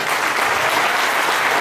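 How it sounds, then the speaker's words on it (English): Loud, dense applause from an audience during a speech at a coaching center event, a continuous wash of clapping with no voices over it. "If you clap, then definitely we will be so happy."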